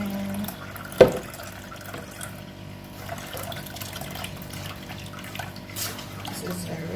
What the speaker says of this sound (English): I'm gonna strain it again.